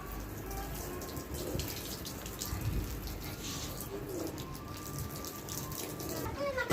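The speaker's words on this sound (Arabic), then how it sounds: "وهنا يا بنات طلعنا حتى نغسل هذه الزولية اللي صايرة لازم تنغسل." Water running from a tap outdoors while a rug is being washed, a steady splashing and trickling flow at moderate volume with small irregular splashes throughout and no talking.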